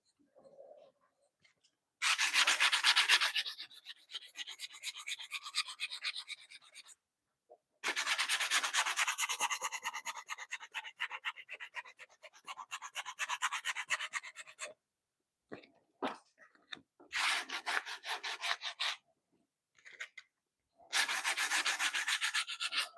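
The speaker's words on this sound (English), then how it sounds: "We're going to smoothen off that end, too." Sandpaper is rubbed over the end of a wooden piece in a workshop, making quiet, scratchy bursts of sanding, several seconds each, separated by silent pauses.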